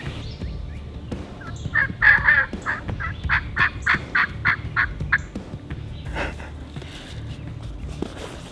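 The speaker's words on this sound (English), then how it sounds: "The turkeys didn't like the situation" Wild turkeys gobble outdoors in a quick series of rattling calls, fairly close and distinct, repeated several times in a rhythmic run before fading into quieter rustling and background noise.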